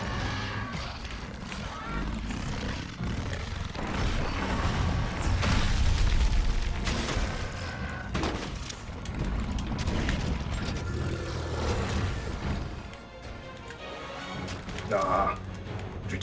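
Monster explosions during a Monster Hunter World hunt against Lunastra-like blast attacks: a continuous barrage of deep booming blasts and crashes layered over game music and effects, loud and rumbling throughout with brief bursts.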